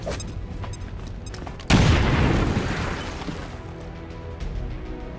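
A grenade goes off in the video game XCOM 2 with one sudden loud boom that rolls off into a decaying rumble, following quieter background game sounds.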